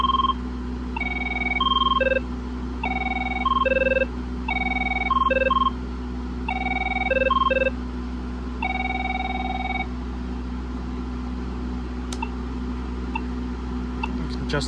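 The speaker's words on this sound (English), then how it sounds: "So this phone has all the like classic Avaya Merlin ringtones." An Avaya 9620 IP phone plays classic Avaya Merlin ringtones: repeated bursts of bright electronic warbling tones in short patterned phrases, close and clear over a steady low hum, with a person speaking at times.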